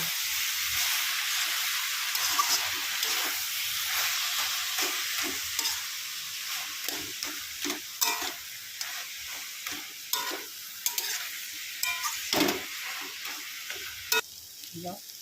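Banana flower and a fried spice mix are stirred in a pan with prawns, a close, busy sizzle broken by repeated scraping strokes of a spatula in an uneven rhythm, with no talking.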